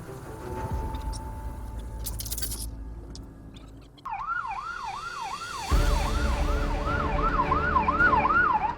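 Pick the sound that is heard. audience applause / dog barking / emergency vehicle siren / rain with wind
emergency vehicle siren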